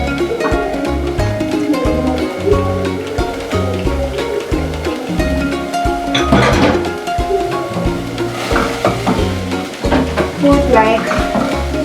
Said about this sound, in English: we want to start by frying our onions